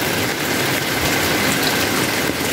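Heavy rain with strong wind outdoors near a garden of large trees, a dense, loud, continuous roar and wash that stays steady throughout with no talk.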